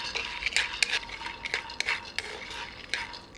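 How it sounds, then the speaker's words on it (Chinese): Peanuts are stir-fried in a pan over low heat, with a spatula scraping and rattling the nuts in irregular bursts over a soft background sizzle, and no voices. "花生倒入锅中，小火炒熟。"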